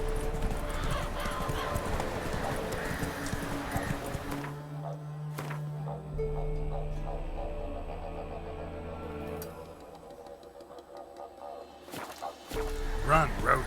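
A horse gallops and clip-clops in The Witcher 3 video game, hooves drumming in a steady rhythm under game music, briefly dropping out and then resuming, with a neigh and someone talking over it.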